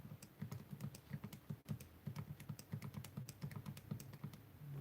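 Numbers are keyed into a calculator in a rapid, steady run of soft, close plastic clicks, quiet and without speech.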